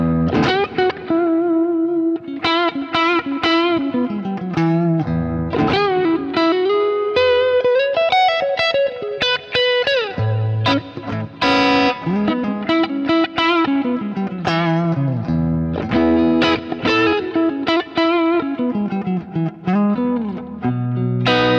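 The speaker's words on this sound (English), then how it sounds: "this is like a Watkins Dominator type of amplifier" An electric guitar, a stock Squier through a Watkins Dominator-type amp, plays a continuous melodic phrase with a warm, slightly driven amplified tone, loud and close, with no talking.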